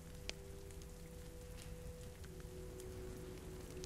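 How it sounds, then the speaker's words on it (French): Steady, faint rainfall patters softly throughout, with a low electronic hum beneath it, in The Walking Dead video game. "En même temps, il pleut, hein."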